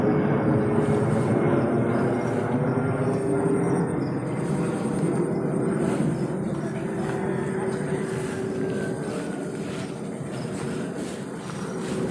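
A low, steady roar of an airplane passing nearby fills the whole clip, holding loud throughout and easing only slightly near the end, with faint outdoor background.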